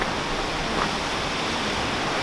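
Steady broadband rush of water falling at steaming hot pools, continuous and fairly even, no voices.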